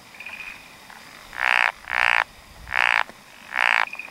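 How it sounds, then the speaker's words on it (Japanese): A Japanese wrinkled frog (tsuchigaeru) calls nearby with four loud, rasping croaks in fairly even succession, with a faint chirp between them. "ツチガエルが鳴いてますね。"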